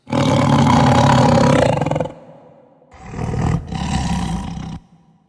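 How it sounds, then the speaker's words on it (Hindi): Wild animal roar from bushes at night, a sound effect: a loud, close, rumbling growl that lasts about two seconds, a short pause, then a second raspy roar trailing off. "लगभग साढ़े तीन बजे के करीब अचानक से एक ऐसी दहाड़ इनको सुनाई देती है सामने वाली झाड़ियों से"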